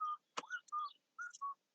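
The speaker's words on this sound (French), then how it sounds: "c'est mon mari qui me siffle, ça" Outdoors on a sunny day, short bright tonal whistles come in quick separate phrases with a sharp click partway through, likely birdsong rather than a person's whistle.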